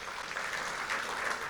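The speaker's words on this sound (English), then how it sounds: "And so if we can give her a round of applause." An audience at a Marysville Tulalip community meeting applauds TGO President Marcy Freiberg with faint, steady, continuous clapping that sounds somewhat distant.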